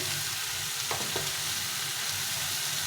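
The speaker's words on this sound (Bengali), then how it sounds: "আর একটু হলুদ গুঁড়ো দিয়ে এটাকে ভালো করে কষিয়ে নিই" Tomato and spice masala with turmeric sautéing in a pan for a fish dish, a steady soft sizzle running throughout with a couple of brief stirring scrapes near the start.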